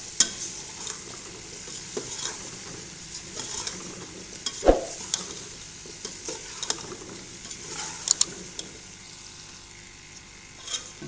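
Potatoes fry in masala in a cooking pot, a soft continuous sizzle broken by repeated spoon scrapes and clinks as the mixture is stirred up close.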